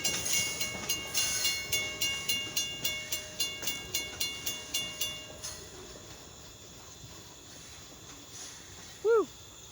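A Kiamichi Railroad freight train rolls past in Idabel, Oklahoma, its wheels beating a regular clickety-clack over rail joints for several seconds before fading, followed by a short horn toot near the end.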